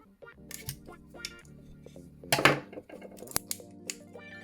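Scissors snip open the packaging of a Xiaomi Mi 9T phone box, with a few crisp cuts and crinkles, then a sharp louder crackle partway through, close and clear with no talking.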